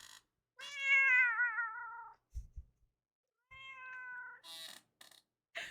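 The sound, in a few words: cat meowing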